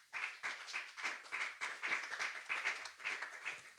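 A church congregation applauding in steady rhythmic unison claps, moderately distant and even, with no voices over it.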